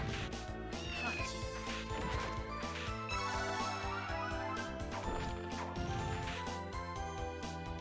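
A cat meows in the video game Castlevania: Order of Ecclesia amid a dense, busy game soundtrack with music and effects playing throughout.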